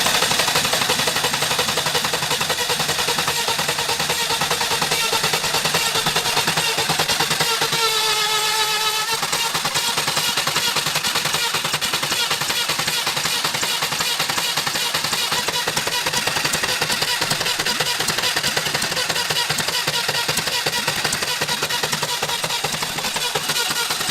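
A retired military generator engine runs steadily and loudly throughout, a dense mechanical roar with a brief shift in tone partway through, no voices present.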